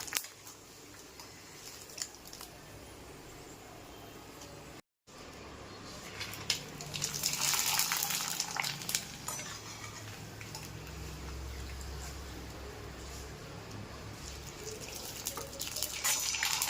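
Rava (suji) papad sizzles as it fries in hot oil, a steady faint bubbling hiss that swells into louder spitting bursts as fresh papads go in, with a brief silent gap partway.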